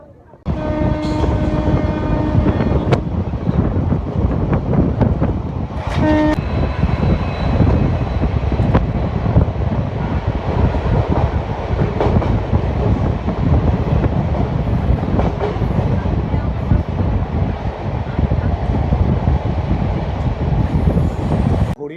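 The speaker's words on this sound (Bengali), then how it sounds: "ট্রেন ছেড়ে দিল এখানে হল ছিল মাত্র এক মিনিটের খুব তাড়াতাড়ি ট্রেন ছেড়ে দিল" A passenger train pulls out of Bauria station on a trip from Kolkata toward Purulia, its horn sounding early, then a loud steady rumble and clatter of wheels on rails carrying on close up.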